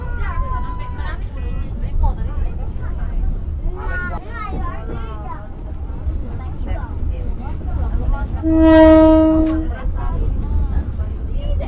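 The Bukit Serelo passenger train runs along the railway between Kertapati and Lubuklinggau, a constant low rumble under people chatting, with a loud horn blast near the end.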